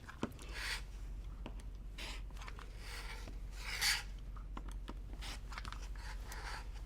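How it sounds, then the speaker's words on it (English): Scissors or a rotary cutter trimming quilt fabric a quarter inch from a stitch line at a cutting table, giving soft, repeated rasping cuts with brief scraping bursts, close and quiet, with no talking. "So now we're going to trim a 1/4 inch away from your stitch line."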